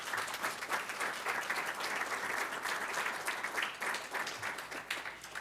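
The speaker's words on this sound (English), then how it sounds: "can we have a round of applause" Sustained clapping from a school board meeting audience, fairly distant and even, with slight swells and no talking over it.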